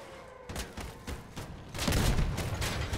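Vehicle weapons firing in the combat game Crossout: rapid, repeated cracks and thuds in quick bursts, swelling into a louder, denser barrage toward the end.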